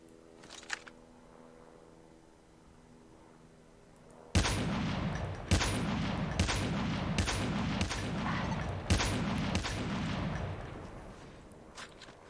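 Gunfire in Call of Duty Mobile battle royale: after a quiet stretch, a loud burst of rapid shots erupts with several sharp cracks spaced through a sustained barrage, then tails off.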